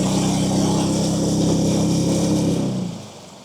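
The outboard motor on a Macgregor 26M sailboat runs below full throttle with a steady, close, loud drone that drops away sharply near the end.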